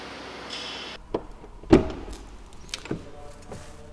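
The heavy rear door of a 2020 Mercedes-Maybach S600 Pullman Guard shuts with one solid thud, preceded and followed by softer clicks and handling noises in a quiet setting.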